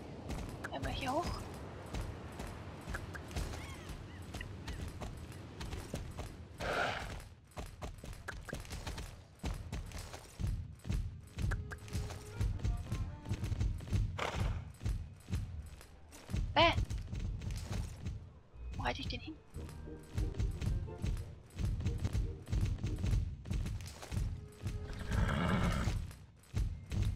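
Horse hooves clip-clopping and whinnies from the online game Star Stable Online, steady galloping footfalls with occasional neighs at moderate level, heard alongside a person talking.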